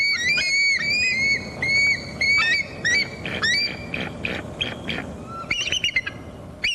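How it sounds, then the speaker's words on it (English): Eagles give loud, repeated high piercing cries and chattering calls, close by and in bursts across the whole stretch, with no talk over them. "It hears the cries of other eagles who'd like to share its meal"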